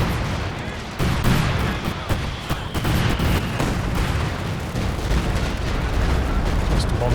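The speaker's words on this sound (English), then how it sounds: "Just the bombs coming down there." Stuka bombs fall and explode in a Company of Heroes 2 battle, a dense run of booming blasts and gunfire-like cracks, loud and continuous, with a voice talking over it.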